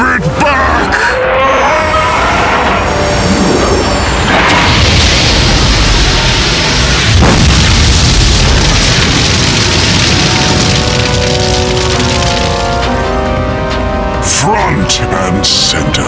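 A lava blast erupts in the 1996 Dragon Flyz cartoon, a sustained loud roaring rush of explosive noise with booming bursts, lasting the whole stretch while characters shout over it.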